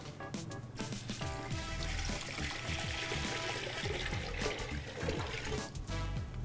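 Water poured into a pot holding garlic, orange, star anise and bay leaf for an octopus broth, a continuous close gushing pour with splashing that runs steadily and fades near the end, no speech.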